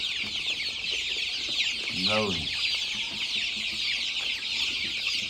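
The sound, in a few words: RIR and Black Australorp desi chicks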